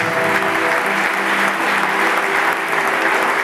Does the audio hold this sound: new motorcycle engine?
no